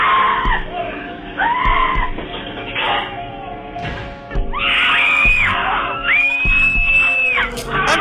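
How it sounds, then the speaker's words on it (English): Several people scream in shrill, rising bursts amid thuds and banging inside a bank-themed haunted house attraction in New York City, loud and close throughout. "is there really that much screaming and banging to do in a bank?"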